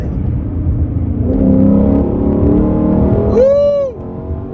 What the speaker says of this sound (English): The sound the car makes when it shifts is just,